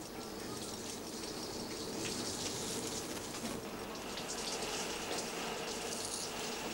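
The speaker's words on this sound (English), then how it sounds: "A sampling bottle is rinsed first and then filled." Water pours and gushes steadily into a sampling bottle being rinsed and filled at sea, a continuous broadband wash with a faint bird-like chirp above it and no talk.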